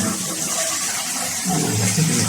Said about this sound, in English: Let's give it a quick flush.